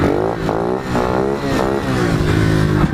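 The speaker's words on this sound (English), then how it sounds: "start revving the bike as you go down" A pit bike engine revs hard and close in repeated surging waves, its pitch rising and falling several times as the throttle is blipped.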